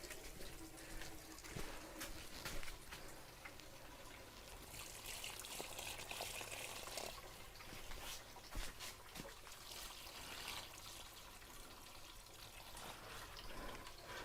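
Water pours steadily into a plastic wicking tote bucket in a greenhouse, draining down into a reservoir at the bottom, a continuous close splashing and trickling that runs unbroken throughout.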